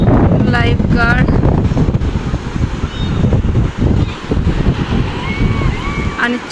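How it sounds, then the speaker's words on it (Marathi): Strong wind buffets the microphone on a small Goa beach, roaring continuously with a wash of surf underneath; a voice briefly speaks near the start. "वारं खूप आहे"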